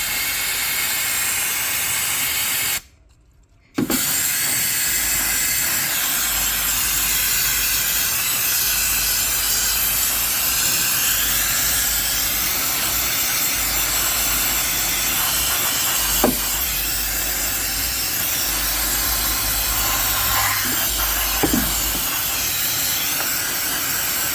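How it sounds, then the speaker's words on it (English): Brake cleaner sprays hard onto engine parts of a 1.4 liter turbo Ecotec during a drive belt swap, a loud continuous aerosol hiss that runs the whole time apart from one short pause near the start, with faint knocks later on. "So, got some brake clean. We're just going to blast the piss out of this thing."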